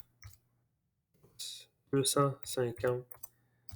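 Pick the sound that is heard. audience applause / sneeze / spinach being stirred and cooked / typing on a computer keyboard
typing on a computer keyboard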